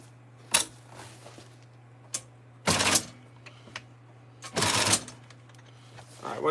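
An upholstery sewing machine runs in short bursts of rapid stitching with pauses between them, over a steady low hum.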